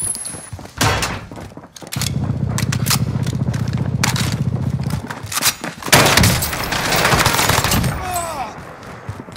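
Sustained rapid gunfire in a Warzone match, a dense close burst of shots lasting several seconds, followed by thuds and further scattered shots, with brief voice chatter.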